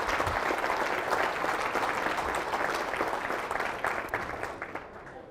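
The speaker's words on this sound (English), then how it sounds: "So would you just give everybody a round of applause for the efforts tonight?" Sustained audience applause at an evening school auction event, a dense crowd of many hands clapping steadily and loudly, tapering off slightly toward the end with no speech over it.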